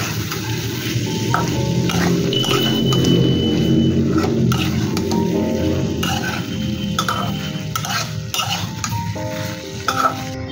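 Aloo katli potato mixture, seasoned with amchur powder, stirred and frying in a pan, with steady sizzling under repeated scraping and clinking of a spoon against the pan.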